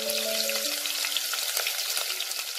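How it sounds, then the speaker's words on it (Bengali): Chopped onion frying in a pan for paneer pulao gives a dense, continuous close-up sizzle, with a brief tone at the very start and no one speaking. "একটা বড় পেঁয়াজকে ছোট ছোট করে টুকরো করে আমি দিলাম।"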